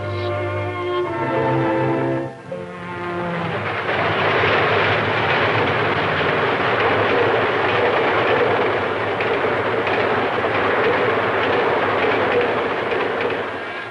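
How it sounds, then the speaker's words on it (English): A streamliner passenger train speeds along the rails in Delaware, a loud steady roar of wheels and rushing cars that swells after a brief lower rumble and holds close and continuous to the end. "Speeding streamliners, too, from north and south link Delaware to the nation"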